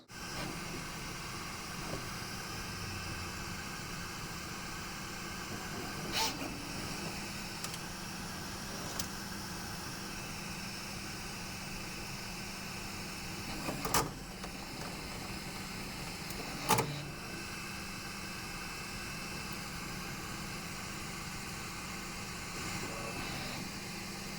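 A Bambu 3D printer fitted with an E3D Diamondback nozzle runs a print, giving a faint steady motor whir and hum with a few brief clicks and ticks, no talk.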